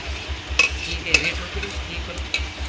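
Ghee heats on a traditional chulha stove with a soft sizzle and a low, rhythmic bubbling pulse. A few sharp clinks of a metal ladle stirring the pot cut through, with no talk.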